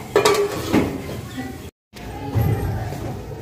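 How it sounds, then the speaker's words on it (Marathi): Corn kernels tumble into hot oil in a pan for popcorn and a lid goes on, making a close rattle and a soft sizzle with a clink of the lid, then a brief gap and low cooking noise. "तर तेल आता गरम झालेलं आहे, तर आपण मक्याचे दाणे त्यात टाकून घेऊया आणि त्यावरती आता आपण झाकण ठेवून घेऊया"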